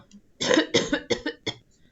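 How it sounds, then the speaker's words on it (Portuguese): A burst of coughing, several sharp coughs in quick succession, close and fairly loud, then quiet. "Tossir para trazer de volta esse alimento"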